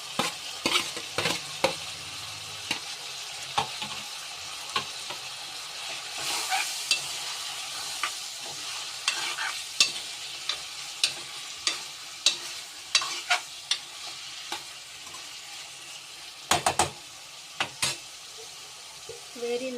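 Chicken curry with freshly added tomatoes fries in a pan, its low sizzle broken by frequent sharp clinks and scrapes of a spoon stirring against the metal.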